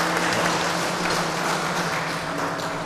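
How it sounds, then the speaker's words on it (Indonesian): Studio audience at a televised discussion on local wisdom applauds for three guest speakers, a steady, even wash of clapping heard throughout at moderate volume with a faint low hum beneath. "Ya, tepuk tangan."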